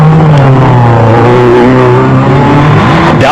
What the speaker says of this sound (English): The works Nissans of Hannes Robler and Peniel de Villiers were next off the line